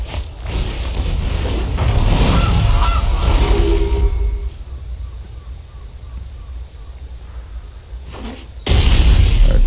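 A goose card played in the Magic: The Gathering Arena card game gives a few honking calls, heard within dense, loud game music and effects that swell and then drop away.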